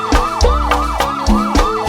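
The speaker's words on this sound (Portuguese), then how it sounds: "Balança a bunda ao som da sirene" Siren sound effect in a pagode song: a rising and falling wail that repeats over a pounding beat, loud and up front.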